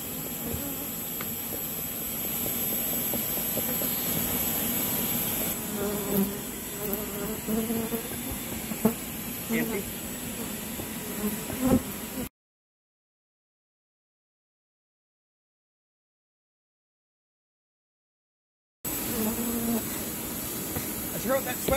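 Bees buzz in a continuous, dense hum during a bee removal, with faint voices over it and a sudden stretch of silence partway through.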